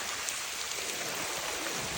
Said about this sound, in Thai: ที่นี่ฝนตกหนักมาก